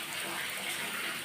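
Water gushes steadily from an outdoor tap or supply valve, a constant close hiss of flowing water with no voices over it.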